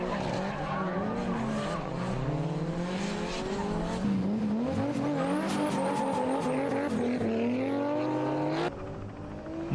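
A silhouette-class race car drifts through a competition curve without third gear, its engine droning and revving with shifting pitch while tires squeal steadily, loud and close, with a brief high whine near the end.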